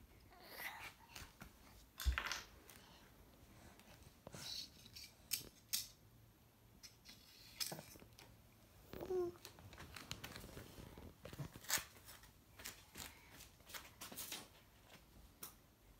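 A plastic sheet is handled by a toddler at home, giving sharp, scattered crinkles and snips in short bursts, close to the microphone, with quiet gaps and a child's faint babble between.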